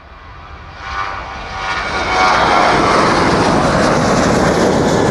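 A departing airliner on the Jet2 service to Kos taking off from East Midlands Airport, its engine roar swelling loudly and holding as a whining, rushing thrust, with no voice.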